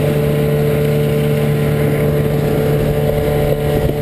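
A motorboat cruises on the Spree river, its engine a loud, close, steady drone with a constant hum and wind noise, and the craft leans heavily to the right.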